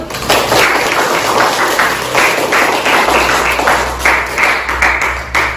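Students in a mathematics class applaud, a lively scatter of hand claps swelling and continuing for several seconds, fairly close and loud.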